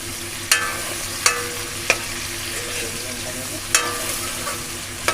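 Garlic frying in oil for a vegetable chicken dish, a steady soft sizzle with a few sharp utensil clicks scattered through, close and moderately loud with no talking.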